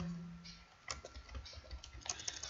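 Computer keyboard typing during a Java programming lab exercise: a steady run of quick, close, moderately loud key clicks with irregular rhythm, a low hum at the start, no voices.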